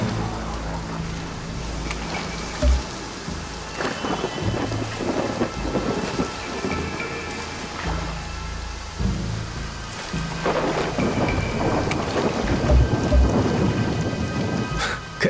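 A thunderstorm in the video game Far Cry 6: heavy rain pours on surfaces, broken by several deep rolling thunder rumbles and a few sharp cracks, loud and continuous throughout.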